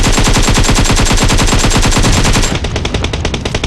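Rapid automatic gunfire in a video game, loud and continuous bursts for a couple of seconds, then thinning into scattered shots with no talk.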